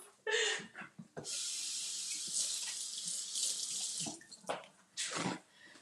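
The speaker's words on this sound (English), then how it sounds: "And I'm gonna wash my hands." A running sink tap splashes steadily as hands are washed under it in a home kitchen while fish tacos are prepared, the water close and loud with brief breaks as the hands move in and out of the stream.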